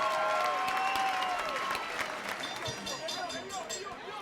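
A boxing crowd gives the two fighters a standing ovation after an eight-round bout, with loud sustained applause and cheering in a large arena and crowd noise underneath.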